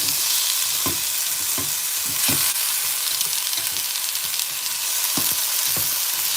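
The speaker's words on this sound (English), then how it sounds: "Obviously, we're gonna saute it until it turns golden brown." Onion and garlic sauté in a pan for Filipino adobo with a loud, constant sizzle. Regular clacks of a utensil stirring against the pan punctuate the sizzle, close up and with no talking.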